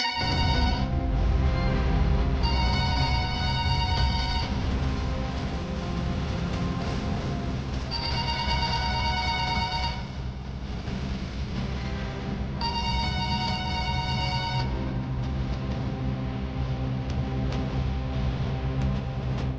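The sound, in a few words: phone ringing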